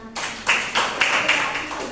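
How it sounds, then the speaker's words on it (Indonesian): Classroom clapping for a student named Rena during a microteaching session, a short burst of hand claps from a small group with a few distinct louder claps, fairly near, with faint voices underneath. "Tepuk tangan dong untuk Rena"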